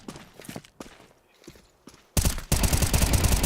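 Rifle gunfire in a Counter-Strike match fight in mid, with light footsteps and scattered clicks first, then a loud dense burst of rapid automatic shots.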